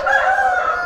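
A rooster crows loudly and close by in a chicken-raising setting where day-old chicks are kept, one sustained cock-a-doodle-doo filling the short moment with no talk over it.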